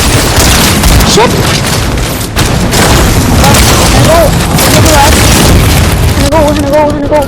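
Dense, continuous gunfire and booming blasts fill a video game shootout, loud and chaotic, with excited voices talking over it throughout.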